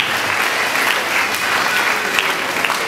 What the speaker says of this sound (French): Merci aux danseuses. Applaudissez-les,